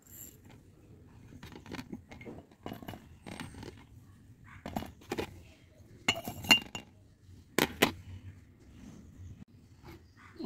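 Cloves, black cumin seeds and garlic cloves dropped into a glass bottle for homemade mustard oil, giving scattered small clinks and taps of glass in a quiet room, several sharper chinks near the end.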